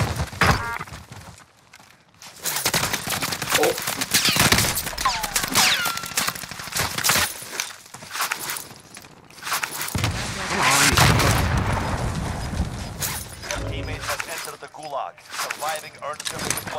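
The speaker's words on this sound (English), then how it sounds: "Guys, I'm being shot at." Rapid gunfire bursts from Call of Duty: Warzone crackle in loud, clustered volleys with a couple of quiet gaps between them, while players talk over the shooting.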